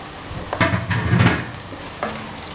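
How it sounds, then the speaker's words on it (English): Smoked mackerel hits a pan of frying onions and garlic, giving a loud burst of sizzle and spoon-stirring scrapes, then a quieter steady fry with one more clatter near the end. "I'm gonna add the smoked mackerel now"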